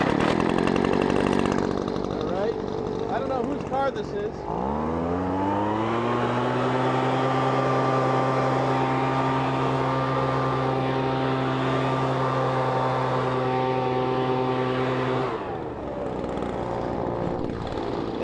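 A leaf blower starts up and runs at a steady loud whine, clearing light fluffy snow outdoors before dropping off near the end; someone speaks briefly before it starts.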